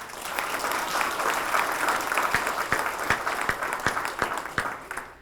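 A school audience applauds students at a morning recognition assembly, a dense wash of clapping that starts strong and breaks into more distinct, scattered claps as it winds down.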